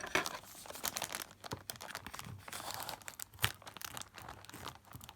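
Packaging around a book parcel is cut and torn open, giving a busy stream of close crinkling, rustling and ripping with a couple of sharper tearing bursts throughout.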